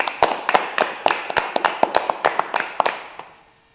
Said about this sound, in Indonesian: Tepuk tangan dulu untuk keduanya.